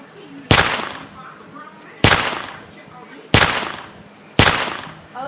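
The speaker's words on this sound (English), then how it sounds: "I just put explosive rounds into him" Explosive rounds fired in a video game, four loud sharp blasts spaced about a second apart, each with a decaying rumble, no talk.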